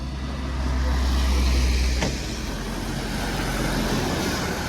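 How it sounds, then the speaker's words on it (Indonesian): A Pertamina fuel truck passes on a rainy, foggy mountain road, its deep engine rumble swelling and fading over steady rain and road noise, heard from inside a vehicle. "Truk Pertamina aja."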